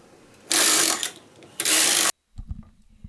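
A knitting machine carriage is pushed across the bed for rows, giving two loud, close mechanical whooshing, rattling passes, then a few soft knocks after it stops.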